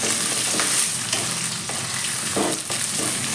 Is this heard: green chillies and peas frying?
yes